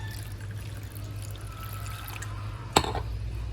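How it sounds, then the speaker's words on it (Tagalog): A small amount of water trickles and pours into a homemade chili garlic sauce mixed with ketchup, a soft steady stream followed by one sharp clink near the end, with no talking. "haluan ko po siya ng kaunting tubig"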